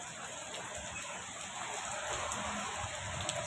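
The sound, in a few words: heavy rain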